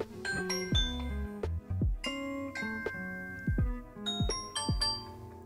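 A series of bright electronic chimes from a Ring doorbell played through an Echo Show 8 rings melodic ding-dong tones in repeating phrases, clear and close with no talking.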